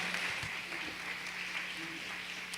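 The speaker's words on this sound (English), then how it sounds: "Please give her a round of applause for putting this together." Applause from an audience at a women's health summit carries on for a couple of seconds, a steady, fairly faint wash of clapping with no distinct individual claps.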